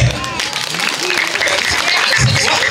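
Audience at a Balinese village performance during a temple festival in Penglipuran claps in a steady wash of applause, loud and close, with voices and crowd noise mixed in.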